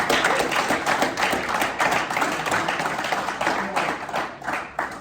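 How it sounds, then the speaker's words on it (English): At a church gathering, an audience gives a round of applause, with close, crisp claps in a brisk, uneven rhythm that are loud at first and ease off gradually. "You can give y'all a round of applause just for standing."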